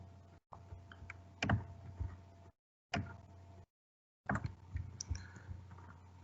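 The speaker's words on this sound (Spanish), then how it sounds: "Damos clic" Computer mouse clicks during an electrical measurement practice on a computer, sparse close clicks and taps in short bursts separated by total silences, faint overall and without speech.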